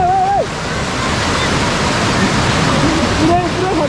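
River water rushes loud and steady as a Bajaj Pulsar NS 200 motorcycle fords a stream on an off-road ride, a broad continuous roar with voices calling over it.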